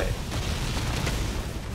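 An explosion in Spider-Man: Miles Morales rolls out as a dense, sustained rumbling blast with crackling debris, loud and steady with no clear onset.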